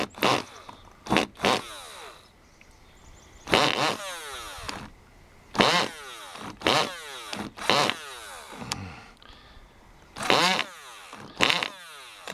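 A small Cox model engine, slightly flooded, sputters and pops in short bursts as it tries to start, with pauses between attempts, close and fairly loud.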